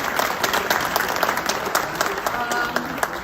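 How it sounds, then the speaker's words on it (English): Crowd applause at a hockey program banquet, a full, steady round of clapping from many guests in a room, with some voices mixed in under it. "I think that deserves another round of applause"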